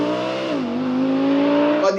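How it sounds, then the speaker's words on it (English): An Audi R8 V8 engine revs up and holds a steady high-pitched roar, close and loud, with the pitch dipping briefly before climbing and sustaining to the end. "why do I always go out for the V8? It's because it sounds like this."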